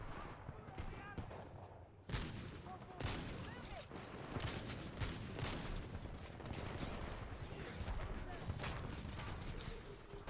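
Sustained gunfire from a Titan in Titanfall 2 multiplayer, dense bursts of shots and impacts running loud and continuous throughout, with a sharp heavier volley near the start.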